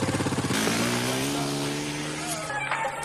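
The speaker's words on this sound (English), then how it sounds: "I can hear him. He's on a motorcycle." A motorcycle engine in an action movie chase scene holds a steady, rising drone with harmonic whine, loud and close under a film soundtrack, with a brief higher engine note near the end.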